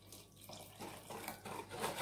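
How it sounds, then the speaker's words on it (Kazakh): About 100 grams of plain cold water is poured into banana sponge cake batter, a steady close hiss of running liquid that continues alone without pause. "Және де 100 грамм жай суық су қосамыз."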